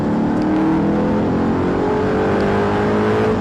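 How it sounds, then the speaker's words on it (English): An Audi R8 sports car engine at full throttle on a race track roars steadily and loud, its pitch rising slowly as it accelerates hard, with no talking. "start squeezing the accelerator, push it all the way to the floor, full power."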